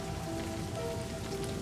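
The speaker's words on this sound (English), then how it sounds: "The raindrops nearly hang in the air" Rain falls steadily in Livber: Smoke and Mirrors, a dense continuous hiss of drops with faint tonal music underneath and no voices, even in loudness throughout.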